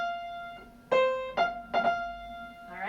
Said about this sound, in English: A fourth would sound like this.